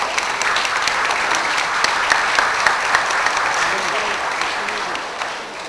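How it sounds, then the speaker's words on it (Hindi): Audience applause in honour of the Nawab of Junagadh at a speech on a Pakistan resolution, dense and steady clapping that holds for several seconds before easing slightly toward the end. "तो आज नवाब ऑफ जूनागढ़ के लिए तालियां"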